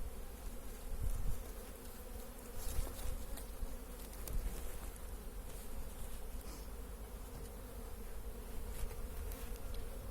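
Bees buzz steadily around a hive during sugar syrup feeding, a close, continuous drone with individual insects flitting past.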